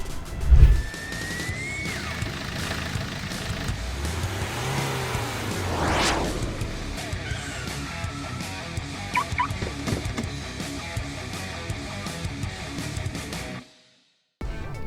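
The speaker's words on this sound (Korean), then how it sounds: "노면 소음은 확실히 좀 잘 읽히는 것 같기도 합니다." Steady road and tyre roar fills the cabin of a Mercedes-AMG CLA45 S while it is driven, with a low thump near the start and a rising and falling whoosh partway through. The sound drops out briefly near the end, and no one speaks.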